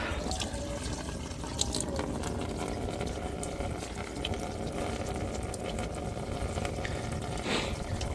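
Water draining steadily out of an old John Deere 60 tractor, a continuous trickling and dripping flow heard up close with no voices, holding an even level throughout.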